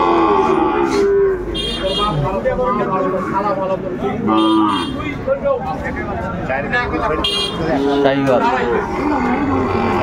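A Sahiwal bull at a cattle market gives several loud, drawn-out moos, close by, among other cattle calls and the murmur of the crowd. People talk throughout.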